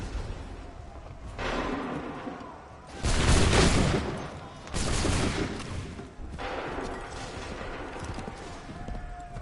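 Musket volleys fired on command in Assassin's Creed 3, with two loud massed crackling discharges in the middle amid ongoing battlefield noise and horse hoofbeats.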